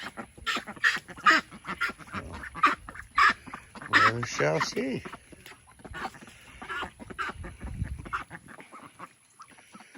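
A flock of farm ducks, both big adults and little young ones, quacks and honks in repeated bursts nearby, while a person speaks briefly partway through.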